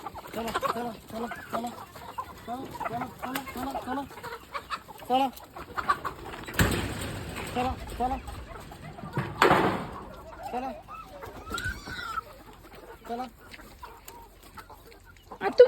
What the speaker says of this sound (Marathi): तुम्ही सगळे कोंबड्या सोडून दिल्यात